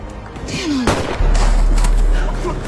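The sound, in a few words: gunfire in a movie scene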